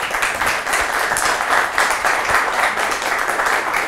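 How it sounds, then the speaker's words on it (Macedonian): A studio audience on a televised Macedonian current-affairs panel show applauds the guests, giving a sustained, even wash of clapping that stays loud and constant from start to finish. "Почитувана публико, аплауз за вас и аплауз за нашите гости."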